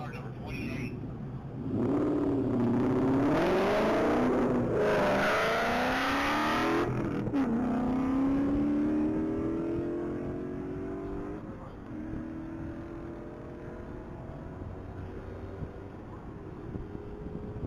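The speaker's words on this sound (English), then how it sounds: "Looks like that Mustang went through the half mile" A yellow 2011 Ford Mustang GT racing down the Texas Mile at top speed, its engine swelling loudly as it passes with rising gear pulls, then fading into the distance as wind noise takes over.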